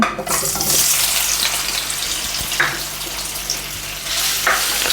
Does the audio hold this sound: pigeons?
no